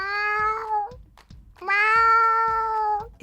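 A person imitates a cat with two drawn-out, whining meows separated by a short pause, loud and close.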